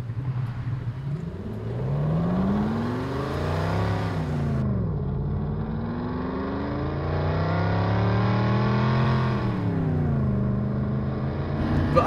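A TVR sports car driving with a SoundRacer device playing a fake engine note, which rises and falls steadily in pitch through gear changes and revs, loud and continuous throughout.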